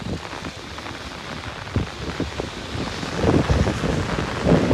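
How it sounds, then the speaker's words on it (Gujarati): A heavy monsoon downpour falls outdoors by a roadside, making a dense continuous roar with gusty wind buffeting the microphone. The rain swells louder toward the end, and no one speaks. "જો મિત્રો કેટલો ભારે વરસાદ આવે છે."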